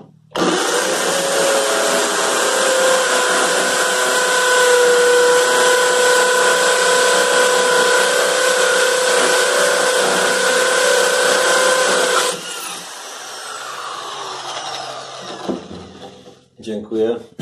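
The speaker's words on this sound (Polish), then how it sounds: "na koniec tradycyjna wiertarka sieciowa. Moc 800 W." A corded 800 W hammer drill runs with its hammer action engaged, giving a loud, steady, high whine for about twelve seconds before cutting off. Quieter handling noises and clatter follow.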